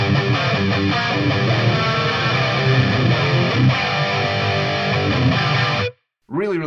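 A sustained, heavily processed guitar tone through a multi-band flanger effect on an FM3 modeler, sweeping, swirling modulation, loud and continuous, cutting off abruptly near the end before a brief resumption.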